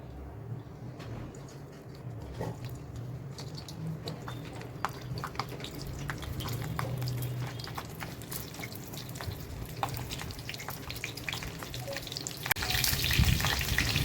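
Stuffed capsicums with a peanut filling set one by one into a little hot oil in a pan, giving a steady low sizzle with scattered crackles and pops that swell louder near the end, with no talking.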